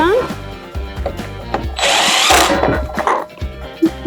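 A power driver on a DeWalt DWS780 miter saw whirs in short bursts as screws are tightened back in, with clicks and handling noise between runs, close by.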